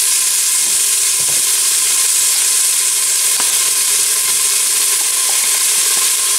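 Meat pieces browning in a pot with garlic, chopped coriander and celery give off a loud, dense, unbroken sizzle, with faint scattered pops and no voices.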